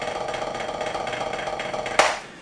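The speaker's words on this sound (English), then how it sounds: "a more closed style or buzz style of playing rolls and rudiments like this" A closed buzz-style roll on a snare drum makes a dense, continuous rattling texture close by, then ends on a single sharp accent that rings out and fades.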